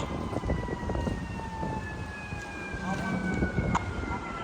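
Fire apparatus sirens, from the rescue and squad companies, wail in the distance at an FDNY underground fire, long rising and falling tones over steady rumbling scene noise and faint radio chatter.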